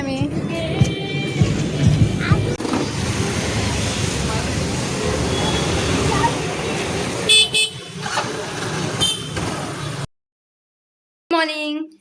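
A car drives along a road with a continuous engine and road rumble, broken by several short horn toots. People talk in the car, and the sound cuts out briefly near the end.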